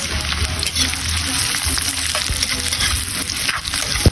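Ginger, garlic and onion sautéing in hot oil, a loud continuous close-up sizzle with scattered stirring clicks and scrapes and no speech over it.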